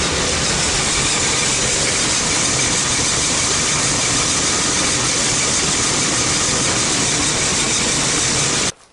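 A 1988 Chevrolet Caprice V8 engine idles steadily and loudly, close up, after sitting unstarted for months, with a dense broadband rumble and a faint squealing edge that runs unbroken for the whole stretch before cutting off at the end.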